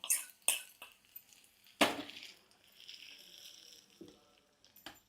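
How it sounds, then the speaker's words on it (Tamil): Hot tempering poured into Coimbatore-style dried red chilli chutney lands with a sharp crackling burst, then fades to a soft lingering hiss, with a few clinks before and after. "தாளித்து இதில் இப்படி கொட்டிடலாம்."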